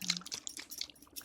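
Water shaken inside a bottle, a quiet series of sloshing splashes and gurgles in an uneven rhythm, close and soft.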